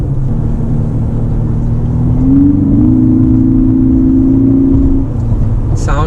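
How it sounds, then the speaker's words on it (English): A 2019 Lexus NX300 F-Sport accelerates in Sport Plus mode, its engine drone climbing in pitch and rising in loudness midway, holding for a few seconds, then easing off, heard from inside the cabin. "barely any pushing you have to do on the accelerator pedal. And it just goes so quick."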